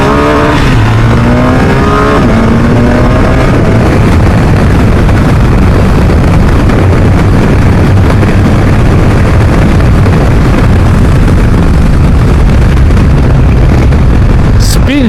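BMW R 1250 RS boxer twin motorcycle accelerating hard in first gear, its engine note climbing quickly at first and then drowned in loud, close wind roar for the rest of the ride.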